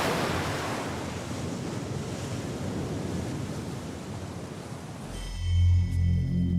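Ocean surf crashes as a steady roar of breaking waves with wind noise, sustained and loud for about five seconds before dropping away into a low rumbling musical tone.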